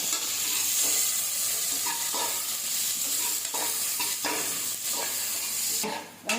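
Chopped onion and green chili sauté in hot oil for a vegetable kurma, sizzling steadily while a spoon stirs and scrapes the pan in repeated strokes.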